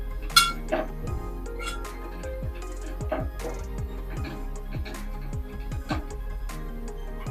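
Spices being stirred into onions in a pan for chicken masala curry, with repeated metallic clinks and scrapes of a utensil against the pan in an irregular rhythm, fairly close and clear.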